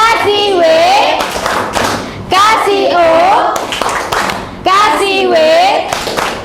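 Junior high school students in a classroom clap a rhythmic cheer in three short bursts, chanting loudly together at close range as they clap.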